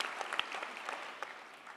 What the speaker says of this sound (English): You can clap. I don't mind that.